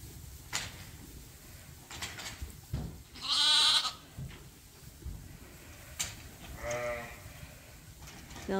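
Lambs bleat on a sheep farm, two clear bleats rising out of quiet, close rustling and shuffling, with a few faint knocks between them.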